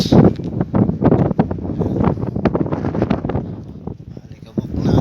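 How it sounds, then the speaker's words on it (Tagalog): Strong wind buffets the microphone outside a race track, a loud, continuous roaring rumble with gusty swells throughout, while people talk over it. "nalakasan na po yung hangin"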